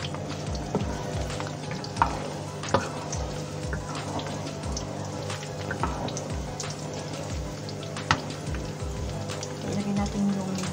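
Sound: garlic frying in canola oil

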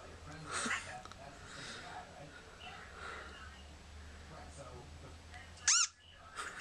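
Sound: squeaky sound from the Kittens app on an iPod

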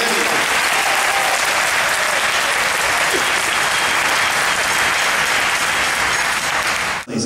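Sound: audience applause for jazz piano accompanist

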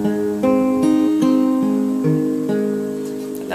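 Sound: fingerpicked guitar arpeggio from a song

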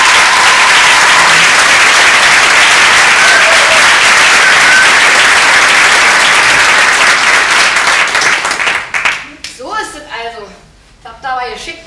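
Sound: theatre audience applause

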